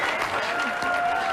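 Bowling-alley audience applauding a trick shot at a PBA skills challenge event, a steady broadband wash of clapping throughout a brief moment, with faint voices underneath.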